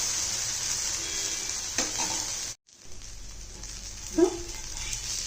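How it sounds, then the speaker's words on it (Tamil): A ragi and wheat dosa sizzles softly and steadily on a hot griddle after being flipped, with a couple of faint scraping touches and a brief dip in the middle. "இதை அப்படியே நம்ம திருப்பி போட்டுக்கிறோம். வேகட்டும்"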